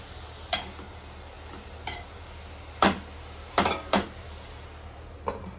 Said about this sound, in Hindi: याला नीट आपल्याला मिक्स करून घ्यायचंय भाजीला कांद्यासोबत.